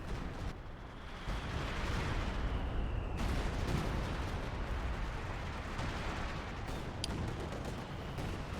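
Units opening fire in a Company of Heroes 2 4v4 match: dense continuous rumbling gunfire and artillery booms blend into a loud, sustained battle roar with a few sharper cracks.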